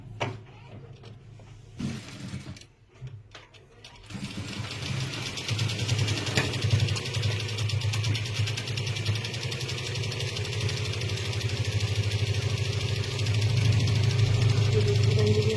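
A sewing machine runs steadily while stitching the shoulder seam of a blouse, a continuous low mechanical hum that begins after a few quieter seconds of handling and grows slightly louder toward the end.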